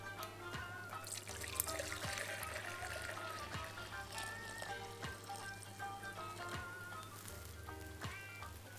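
Liquid egg and milk mixture for crème caramel, with orange zest, trickles from a measuring cup through a strainer, a steady close pouring and dripping sound with faint clinks and no talk.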